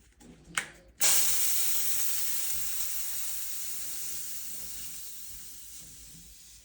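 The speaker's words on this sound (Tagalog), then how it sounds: "Now I'm gonna spray some air." After a couple of clicks, air bursts from a compressor's spray nozzle in a loud, sustained hiss that slowly tapers off over several seconds, close up and with no talking.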